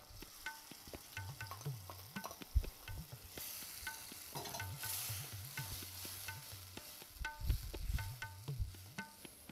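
Beans and sugar sauté in a pan for a vegetarian dish, with a steady close sizzle of frying food and repeated scraping and stirring strokes. No one speaks.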